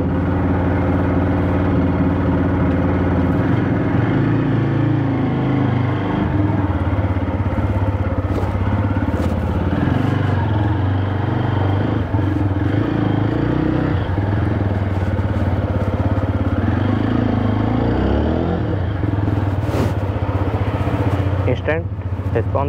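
A TVS Apache 160 4V motorcycle engine runs at a steady idle, a loud, continuous throbbing rumble with occasional clattering, while someone talks over it.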